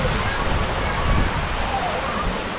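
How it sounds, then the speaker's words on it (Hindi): Bhavali waterfall near Igatpuri, a steady broadband rush of falling water, close and continuous. "ये देखिए भावली का वाटरफॉल झरना"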